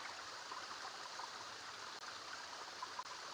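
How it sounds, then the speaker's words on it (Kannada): Water rushes steadily in a stream near a hidden waterfall, a faint, even broadband wash with no breaks or voices. "ನೀರು ನೋಡಿ ಎಲ್ಲಿಂದ ಹರಿತಾ ಇದೆ"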